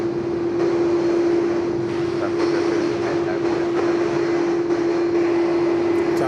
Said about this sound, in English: geez, they're loud, the CF6s